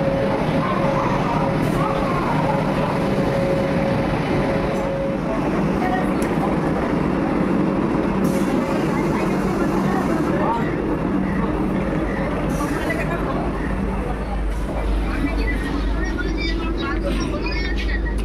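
A Vande Bharat Express pulls out of Bhubaneswar station. Its steady, loud rolling rumble fills the carriage interior throughout, and a low tone holds for the first few seconds.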